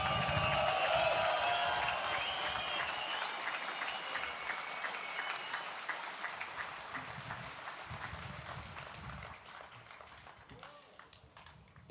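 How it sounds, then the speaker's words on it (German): A large audience breaks into sustained applause for rescue workers after a speech, loud at first and gradually thinning over twelve seconds, with scattered voices in the crowd. "Danke, ein Applaus an die Rettungskräfte."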